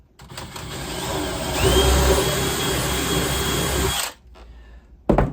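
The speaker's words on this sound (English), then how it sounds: "Grab your drill with a small drill bit." A power drill with a small bit bores into wood while building a house wren birdhouse. It runs loud and steady for about four seconds, its whine rising once, then stops before a brief knock.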